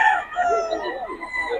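A rooster crows nearby, a loud drawn-out call with wavering pitch lasting just over a second, with no talk over it.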